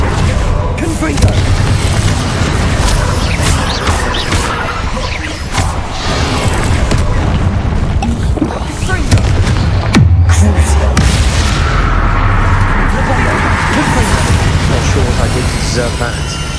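Repeated Confringo fire-spell blasts in the Hogwarts Legacy video game, loud booming bursts and crashes in a busy, continuous stream of game effects with voices over them.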